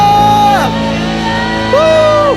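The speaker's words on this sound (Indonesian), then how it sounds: "Berikan sorak-sorai buat Tuhan Yesus" A church congregation at a Good Friday service cheers and shouts for Jesus, a sustained crowd roar with whooping voices rising and falling over steady organ-like tones.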